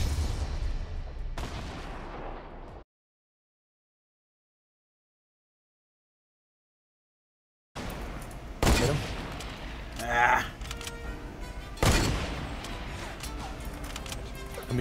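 Gunfire rings out in Fortnite, with sharp bursts of shots and crashing booms around a long stretch of silence, while a voice speaks briefly.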